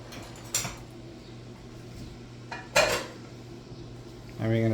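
Squid is stirred in a cooking pot for a seafood stew, making a few sharp metallic clanks and scrapes of utensil against pot, spaced apart over a quiet background hum.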